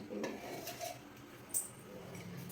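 A bowl is handled while oil is measured out for cooking, with soft clinks and taps of metal cookware and utensils close by in a quiet kitchen.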